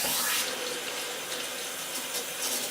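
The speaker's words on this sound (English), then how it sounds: "I stick the mouthpiece, if you can, right under the tap. And what I'm going to do is turn this on full force with hot water" Hot water from a tap running at full force into a glass bong held under the spout, a steady loud continuous rush with no voices.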